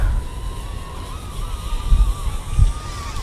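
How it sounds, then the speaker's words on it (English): A light northerly breeze buffets the microphone outdoors with low rumbling gusts, while a micro drone's thin steady whine hums throughout. "it kind of hits that little northerly breeze"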